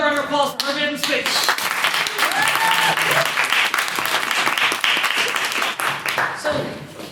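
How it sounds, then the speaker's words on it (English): Sustained applause from a debate audience greets a student's maiden speech, dense clapping at a steady loud level, with a voice briefly audible at the start before the clapping fills the room. "another round of applause for her maiden speech"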